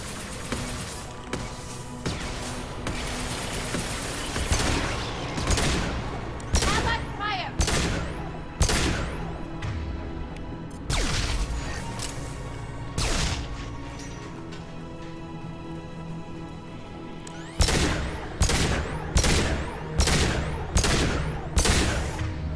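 Turret gunfire in Mass Effect 2 rattles out in repeated loud bursts of sharp shots across the whole stretch, with a synthetic voice announcing commands over the shooting.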